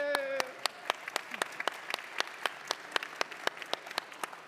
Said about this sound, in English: Applause, I would say.